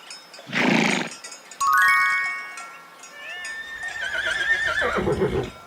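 A farm horse gives a shrill, wavering whinny that rises and falls, preceded by a short snort-like burst, fairly close and clear with no other sounds competing.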